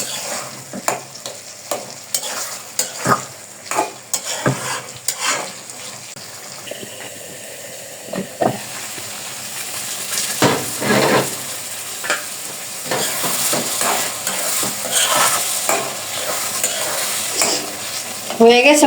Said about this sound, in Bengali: একটু পানি দিয়ে দিব যাতে ডিমটা ভালোভাবে আর কি সিদ্ধ হয়